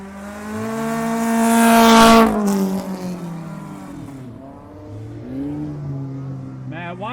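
Race cars roaring around the track in the Old Milwaukee 30, one leader slowed in lap traffic; a loud engine howl climbs and peaks in a close pass, then several cars drone on with rising and falling revs.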